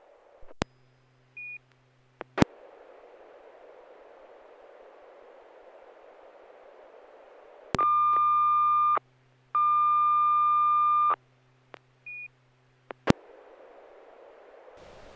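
Over a ham radio net, a steady electronic tone transmission comes through radio static, with short beeps and clicks before two sustained tone bursts and more static afterward.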